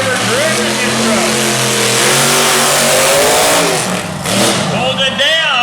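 A race truck engine revving hard on a dirt track, the truck only recently built on a new chassis: a loud, close, continuous snarl with rising and falling pitch sweeps as the throttle is worked, and commentary over it.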